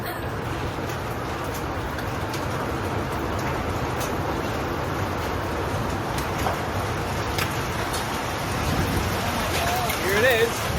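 A giant hailstorm pounds houses in Springfield Lakes, Queensland, Australia, a dense, steady roar of ice striking roofs and surfaces that holds for the whole stretch and swells slightly toward the end.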